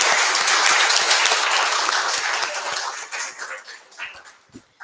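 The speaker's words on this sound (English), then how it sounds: "Let's give a heartfelt round of applause to our inspiring speakers" Audience applause for cancer survivor speakers at a summit round table: dense, loud clapping from a crowd that gradually thins and fades, ending in a few scattered claps.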